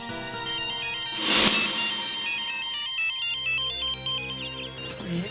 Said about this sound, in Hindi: ये तो मैडम की रिंगटोन है।